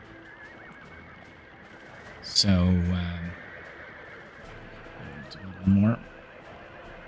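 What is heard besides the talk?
horses neighing in the video game Workers & Resources: Soviet Republic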